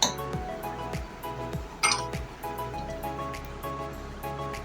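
A spatula clinks and scrapes against a cooking pot with repeated light metallic taps at an uneven rhythm, plus one sharper bright scrape near the middle, close and fairly quiet with no talk.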